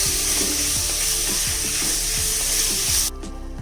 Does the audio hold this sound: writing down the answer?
no